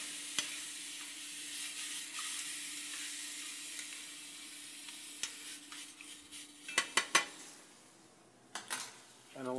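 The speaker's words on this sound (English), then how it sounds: "We're going to stir this in." A spoon stirs homemade Coca-Cola BBQ sauce in a cooking pot, giving faint soft scraping under a low simmering hiss, with a few sharper clinks of metal against the pot near the end.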